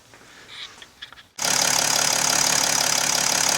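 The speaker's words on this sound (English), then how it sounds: "Okay, the engine started up, and I'm checking for leaks here" A 2007 Mercedes E320 Bluetec diesel, just fitted with a new fuel filter, cranks after some quiet clicks and catches abruptly, then settles into a loud, steady idle close by.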